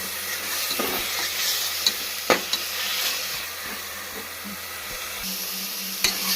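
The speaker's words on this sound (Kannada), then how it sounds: "ಸೊ ಇದು ಫ್ರೈ ಆಗ್ತಾ ಇದೆ" Meat frying in a pan for a non-vegetarian dish, a steady close sizzle with intermittent stirring clatters and a few sharp utensil knocks throughout, no talking.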